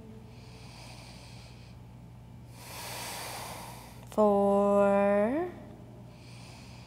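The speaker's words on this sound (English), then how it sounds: "steady, deep breathing." A slow, deep breath drawn in and let out during a yoga forward fold, soft and close. It is followed by an instructor's voice counting.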